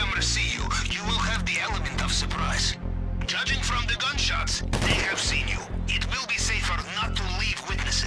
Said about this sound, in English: Judging from the gunshots, they have seen you.